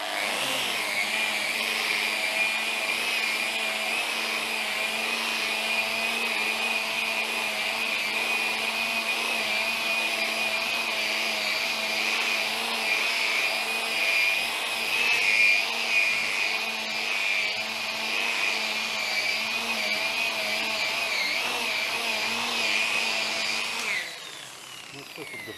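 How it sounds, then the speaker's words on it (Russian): A variable-speed polishing machine buffing wax on Venetian plaster runs at low speed as a steady, close electric whine for a long stretch, then cuts off near the end. "Машинка обязательно должна быть с регулировкой скорости, иначе вы сожгете воск."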